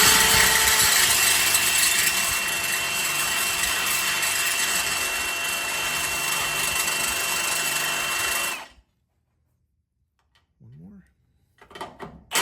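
A power drill whirs steadily and loudly for several seconds, then stops, leaving near silence with a few faint clicks and knocks.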